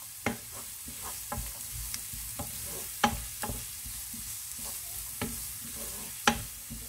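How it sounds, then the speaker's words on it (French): Onions caramelize in a pan for chicken pastilla with dried fruit, a steady sizzle under a run of spoon knocks and scrapes against the pan at irregular intervals, close and free of talk. "Donc on va caraméliser les oignons."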